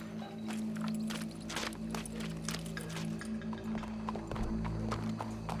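Horse hooves clip-clop in Red Dead Redemption 2, a steady run of hoofbeats over a low engine-like hum and background game ambience, with no talk.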